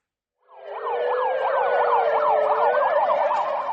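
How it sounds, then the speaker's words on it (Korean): A loud, wailing fire engine siren rises in and holds a fast alternating warble, steady and close, with no voices. "불이 났다는 신고를 받고 소방차가 긴급 출동합니다."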